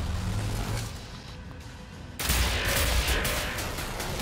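A Tesla gun fires in the World War II shooter Wolfenstein: The New Order, a loud crackling electric burst that starts suddenly partway through and sustains over rumbling combat noise.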